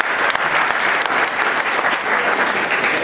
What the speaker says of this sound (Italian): ma un applauso che facciamo a te